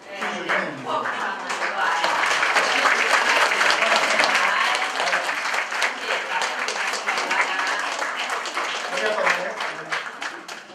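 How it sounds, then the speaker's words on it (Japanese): An audience at a Kachin community gathering in Japan claps in sustained applause, a loud dense wash of many hands lasting several seconds before tapering slightly. "皆さん拍手をしてね"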